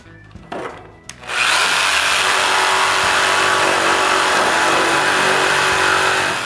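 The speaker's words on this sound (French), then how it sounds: "Ensuite, il ne reste plus qu'à percer le trou." A power drill bores a hole through wood in a ceiling board for an electrical box, starting after a couple of short bumps and then running as a loud, steady, continuous grind to the end.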